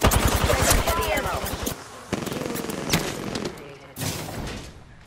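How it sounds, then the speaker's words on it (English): Rapid automatic gunfire in the Apex Legends shooter, a loud, fast stream of shots that breaks off, followed by a few scattered single bangs and a final heavy burst, with game voices mixed in. "They're shooting at me."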